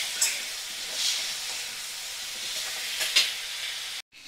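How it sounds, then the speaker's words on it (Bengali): Spices and chili powder stir-fried in a pan over medium flame, giving a steady hissing sizzle with a few soft stirring scrapes, moderately loud and close, then cutting off abruptly near the end. "এবারে মিডিয়াম ফ্লেমে রেখেই আমি মশলাগুলো দিলাম আর কষিয়ে নেব"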